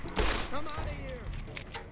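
Several gunshots in the game Fallout New Vegas, roughly three or four sharp bursts spaced about half a second apart over a murmur of voice and game sound, moderately loud and close.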